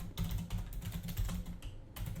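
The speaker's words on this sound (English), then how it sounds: "I'm getting pretty good at typing it" Rapid typing on a computer keyboard, a quick run of close, soft clicks with brief pauses, fairly quiet and with no talk.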